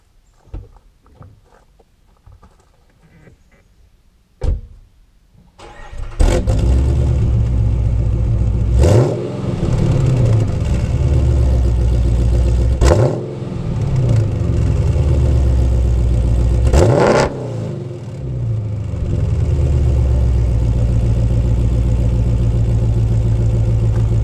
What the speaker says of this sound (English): we have a soundtrack already of the coarse exhaust, but not with the coarse exhaust going through the long tube headers